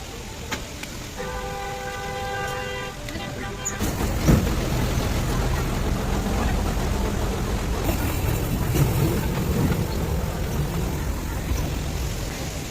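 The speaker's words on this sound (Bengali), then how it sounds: "ক্রুজার মানে অ্যাকচুয়ালি ওপরে ঠিক রেলগাড়ির মতন, ওপর দিয়ে নিয়ে যাবে, ঘোরাবে।" The Cruiser ride at Nicco Park, Salt Lake, an amusement ride running like a train on an elevated track, gives a continuous rumbling roll that builds after a few seconds, with a steady tonal whine early on and faint voices around.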